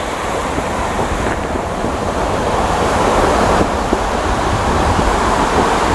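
Waves break continuously on Sankaragupta Beach on a full-moon night, a loud, dense roar of surf with steady wind buffeting the microphone and a slight swell in intensity midway, no voices.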